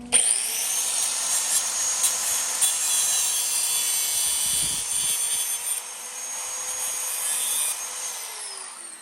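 A grinder works metal for a welding project, a steady high, rasping whine that holds for several seconds and then gradually fades, with a brief low thump in the middle.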